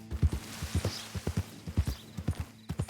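Horse hooves clip-clop on the ground in Red Dead Redemption 2, a steady walking rhythm of distinct close hoofbeats with a quiet background and no talking.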